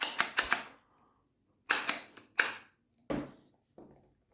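Sharp metallic clicks from a chisel being pulled out of the chuck of a Parkside PBH 800 hammer drill, a quick triple clack followed by several single snaps with short pauses between, close and alone.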